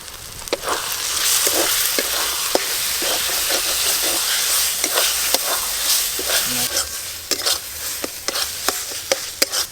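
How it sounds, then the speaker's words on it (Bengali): Ground shrimp paste with spices sautés in a pan, giving a steady loud sizzle and hiss broken by repeated sharp scrapes and taps of stirring. "মশলার সঙ্গে চিংড়ি মাছ বাটা খুব ভালো করে কষানো হয়ে গেছে"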